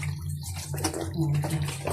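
Water splashes and trickles as chickens' and ducks' drinking water is poured out and refilled, with a steady low hum underneath and no talking.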